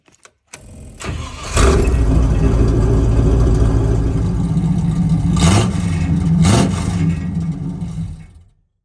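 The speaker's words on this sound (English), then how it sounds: "If you said 1985 V8 Range Rover off-roader, you'd be right." A 1985 V8 Range Rover off-roader starts with a cranking catch, then its engine settles into a loud, close rumble with two quick revs before cutting off.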